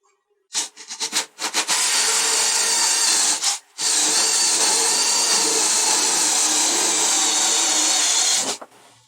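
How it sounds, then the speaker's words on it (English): A power drill whirs up in a few short bursts, then bores steadily into wood for several seconds, drilling a hole through a tabletop for a router table, pausing once briefly, close and loud. "we'll go ahead and measure that out and drill a hole there to start with"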